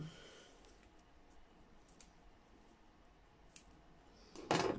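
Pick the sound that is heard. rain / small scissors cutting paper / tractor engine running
small scissors cutting paper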